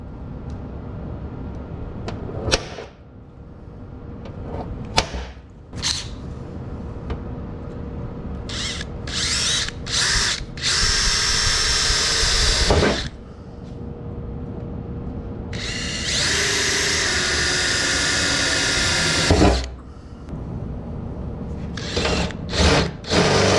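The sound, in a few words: power drill drilling holes in van body for snorkel kit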